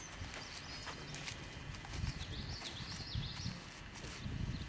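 A ridden horse's hooves clip-clop at a walk on firm ground, with irregular soft thuds that come and go, moderately close but fairly quiet, under a faint hiss of background noise.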